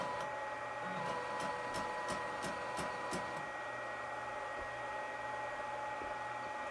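A Procolored L1800 DTF printer runs a head cleaning cycle with a faint, steady mechanical whir. A quick series of light clicks comes in the first few seconds.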